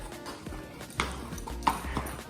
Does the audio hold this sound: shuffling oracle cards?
no